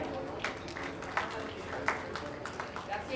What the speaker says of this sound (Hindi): सभी बच्चों के लिए जोरदार तालियां।